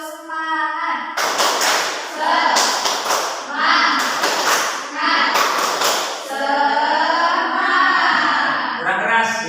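A school class claps the rhythmic 'tepuk semangat' chant in loud, patterned bursts of clapping, interleaved with children's voices chanting together.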